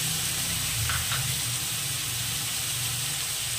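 Mutton frying in oil together with a ground paste of ginger, garlic, onion and cumin, a steady close sizzle with faint stirring scrapes throughout.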